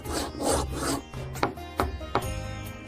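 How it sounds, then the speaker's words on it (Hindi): Wood being worked with saw, chisel and hammer: rough rasping strokes, then several sharp knocks at a steady pace, close and alone with no voices. "लोगों को उस कक्ष से केवल आरी छीनी और हथौड़े की आवाजें सुनाई देती थी"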